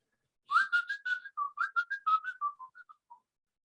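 A ventriloquist whistles a quick, bright melody of about a dozen short rising and falling notes, clear and close with no talking.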